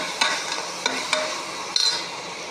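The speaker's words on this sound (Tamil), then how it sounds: "வெங்காயம் நல்லா செவக்கணும்." Chopped onions for chicken biryani fry with a steady sizzle while a spoon scrapes the pan in a few sharp, spaced clinks, close and moderately loud, with no talking.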